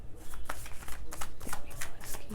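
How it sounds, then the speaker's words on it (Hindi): Tarot cards are shuffled by hand up close, giving a quick run of soft riffling flicks and papery slaps in an irregular rhythm, fairly quiet, with no talk. "आपके लिए भी कार्ड्स लेती हूँ मैं, ठीक है।"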